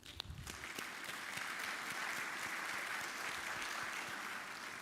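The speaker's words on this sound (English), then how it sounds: "A heartfelt congratulations and a warm round of applause to each of you on all that you've accomplished." Audience applause at a Lagos Business School executive education graduation ceremony: a warm, sustained wash of clapping from a large hall crowd, fairly faint and even, after a brief sharp opening sound.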